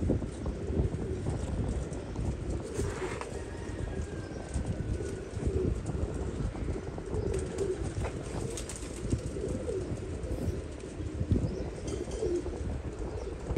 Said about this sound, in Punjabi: ਬਹੁਤ ਹੀ ਨਜ਼ਾਬ ਕਬੂਤਰ ਹੈਗਾ